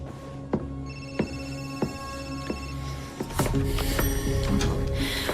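A telephone rings repeatedly in a steady pattern of electronic bell bursts, fairly close and clear, with a louder burst of ringing near the end and no talk over it.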